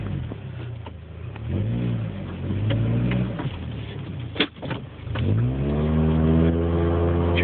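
An automatic car with a transmission stuck in limp mode, holding only second gear, pulls onto the road, its engine rising and falling in pitch through repeated revving sweeps, with a brief thump midway.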